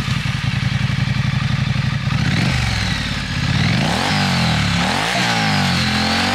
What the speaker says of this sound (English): hope you like the sound of the exhaust there